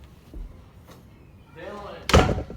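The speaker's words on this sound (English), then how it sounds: "Let me shut this door." An indoor door shut with a single solid thud near the end, preceded by faint shuffling and movement.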